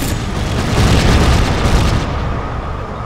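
A grenade goes off in the video game Rogue Trooper, a loud, dense blast whose roaring rumble fills the whole stretch and fades slightly toward the end.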